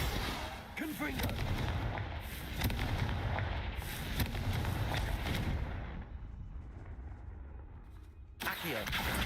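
Confringo spell blasts in the Hogwarts Legacy video game boom out as dense, booming explosions that roll on continuously, loud and close, then drop away into a quieter stretch before another burst at the end.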